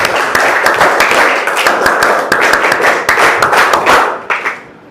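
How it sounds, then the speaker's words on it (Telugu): A classroom group claps together in a dense, loud burst of overlapping hand claps that runs steadily for about four seconds, then thins into a few scattered final claps. "ఒకేసారి చప్పట్లు కొట్టిస్తాం"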